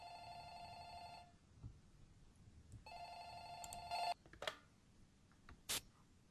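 A telephone rings in a video game, two clear electronic ring bursts separated by a short pause, followed by a few sharp clicks, fairly quiet overall.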